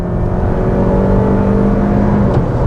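A 2022 Toyota RAV4 TRD Off-Road accelerating downhill, heard from inside: a loud, steady engine whir with a gradually rising tone and road rumble throughout.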